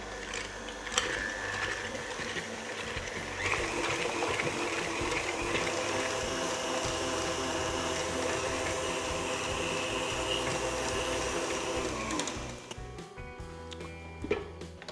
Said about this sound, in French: Lorsque le praliné est bien mélangé, j'arrête le batteur